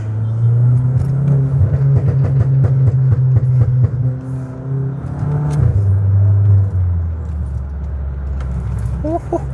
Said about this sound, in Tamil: நான் இப்போ தான் ஃபுல் ஆக்சிலேஷன் கொடுக்குறேனே. கொடுத்தோன்னா வண்டி அப்படி இழுக்குது.